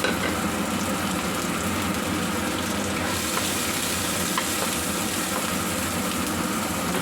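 Chopped garlic frying in a pan for Filipino pancit batil patong gives off a steady, dense sizzle and crackle that holds close and loud throughout, with no voices.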